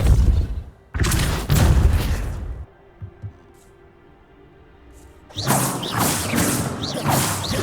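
A Depulso spell is cast in Hogwarts Legacy, giving loud, forceful whooshing blasts: two heavy bursts up front, a quieter lull with small knocks, then another loud surge at the end.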